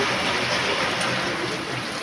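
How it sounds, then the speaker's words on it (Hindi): Heavy monsoon-style rain pours steadily outside a half-shuttered shop during stormy weather, a dense, constant hiss of drops striking surfaces close by, with no talk over it. "हमारी यहाँ पर दोबारा बरसात हो रही है। तो आपको दिखाती हूँ कितना भयंकर बरसात हो रही है"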